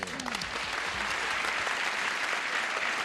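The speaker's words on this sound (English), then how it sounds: "Let's welcome a new player with a brisk round of applause." A studio audience on a 1977 television game show gives a brisk round of applause to welcome a new player, a steady dense wash of clapping that fills the whole stretch at even loudness.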